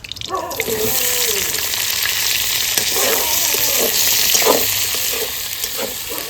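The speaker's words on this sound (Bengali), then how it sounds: "জিরাটাও ভেজে নেব এই যে জিরে সব একসঙ্গে আমি মশলাটা ভেজে" Cumin and spices roasting in a pan with garlic and onion in oil, giving a steady close sizzle and crackle throughout with occasional stirring scrapes.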